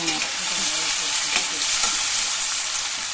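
Tomatoes fry hard in a pan for a Coimbatore-style chicken gravy, a loud, dense, continuous sizzle with faint stirring movement underneath, close and steady, no talk.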